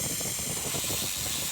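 Laser cleaner stripping white acrylic lacquer paint from brick, giving a steady, loud, continuous hiss with a faint crackling texture underneath, unbroken throughout.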